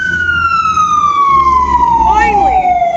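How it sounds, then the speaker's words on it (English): Emergency siren in a city, heard from inside an apartment: a single loud wailing tone glides slowly downward over low traffic rumble, with a brief warble near the end. "we get the sirens that you always hear from my apartment right now, because that's this city"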